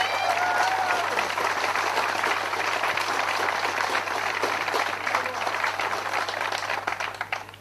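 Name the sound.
crowd applause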